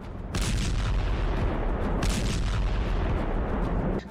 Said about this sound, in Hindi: तोपखाने, ड्रोन और मिसाइलें महीनों से यूक्रेन के कब्जे वाले पूर्वी इलाकों में बमबारी कर रहे हैं